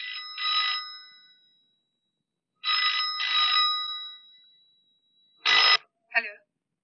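A telephone at home rings in two long electronic trill bursts, followed by two short sharper sounds, close and clear against near silence.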